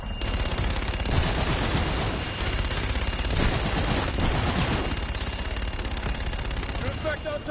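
Sustained aircraft gun-run machine gun fire in a military video game, a continuous loud roaring burst lasting the whole stretch with intense peaks, while voices talk over radio underneath.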